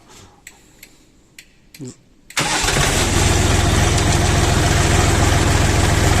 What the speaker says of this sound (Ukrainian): це звучить двигун YD 385.